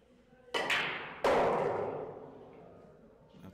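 During a race-to-4 pool match, billiard balls are struck on a break shot, giving two sharp, sudden clacks about a second apart that ring out and fade in a quiet hall.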